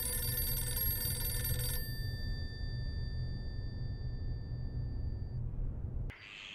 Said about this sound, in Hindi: ये किशो का फोन होगा, कई दिनों से आई जो नहीं है।